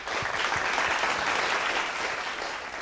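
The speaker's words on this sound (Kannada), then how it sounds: "ಬರಲಿ ಒಂದು ಚಪ್ಪಾಳೆ ಇವ್ರಿಗೆಲ್ಲ" Studio audience applauding singers at a televised singing show, a broad, even wash of many hands clapping at moderate volume, sustained throughout without voices.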